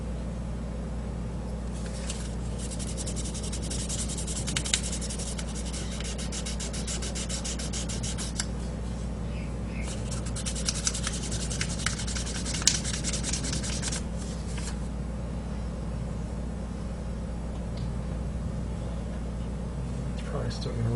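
A small diecast car part being sanded by hand: steady, continuous gritty rubbing that strengthens in two longer strokes over a constant background hum, with a voice talking over it.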